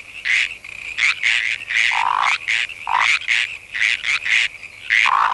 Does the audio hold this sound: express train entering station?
no